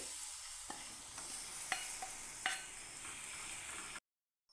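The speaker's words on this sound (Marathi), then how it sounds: "आता गूळ घालून घ्यायचं आहे आणि छान असं वितळून घ्यायचं आहे तुपामध्ये" Jaggery melts in hot ghee in a kadhai while being stirred for sweet coconut rice. A soft sizzle runs under a few scraping clicks from the spoon, and then everything goes silent.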